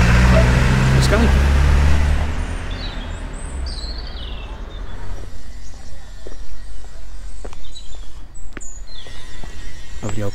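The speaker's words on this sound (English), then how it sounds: "Once again, loads of traffic coming through." Road traffic on a village high street in Surrey, a car passing close and loud at the start then fading, followed by a quieter street scene with footsteps, birds and distant traffic.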